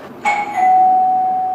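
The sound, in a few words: doorbell ringing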